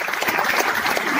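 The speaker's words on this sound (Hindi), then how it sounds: "एक बार जोरदार तालियां" Loud, dense audience applause at a gathering, a continuous wash of many hands clapping together, close and steady with no voices over it.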